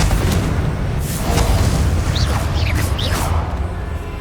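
A Confringo blasting spell bursts in Hogwarts Legacy on PS5, a loud rumbling boom with a rolling low roar that swells and lingers over several seconds amid game ambience.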